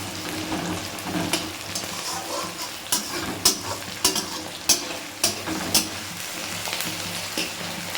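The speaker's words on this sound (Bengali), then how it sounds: "চলুন পেঁয়াজটা ততক্ষণে লাল লাল করে ভাজা হোক" Onion and garlic fry in hot oil in a pan, giving a constant close sizzle punctuated by a run of sharp spatula taps and scrapes as the pieces are stirred.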